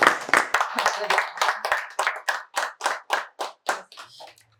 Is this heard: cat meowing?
no